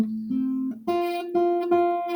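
Acoustic guitar notes fretted with too little finger pressure, so a string buzzes: a few plucked tones are followed by a ringing, harmonically rich sound that is struck again several times. Close and clear, with no talk.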